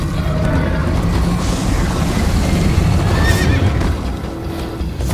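A horse whinnies over galloping hoofbeats in the video game Minecraft: Story Mode, set against a loud, constant rumbling backdrop.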